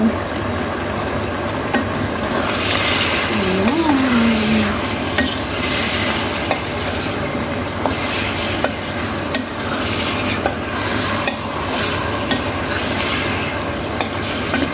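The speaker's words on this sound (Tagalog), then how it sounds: "Kumukulo na siya, kaya pwede na natin" A pot of chicken wing adobo bubbling steadily while a spoon stirs through it in repeated scraping strokes, with a brief faint tone in the background.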